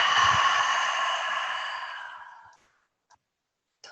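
A slow, breathy exhale with the tongue stuck out during a calming neck stretch, close and soft, fading out over about two and a half seconds before near silence and a couple of faint clicks.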